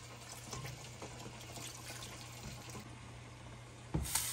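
Water runs into a cooking pot while Afghani kofta meatballs are prepared, a soft continuous pour at low level ending in a brief louder clunk.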